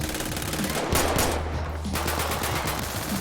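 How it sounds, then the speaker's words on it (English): Automatic gunfire from the Realistic Gun Sounds mod for GTA 5: loud, rapid bursts of shots pound continuously for several seconds, with a heavier volley near the middle. "it replaces every single weapon sound in GTA 5"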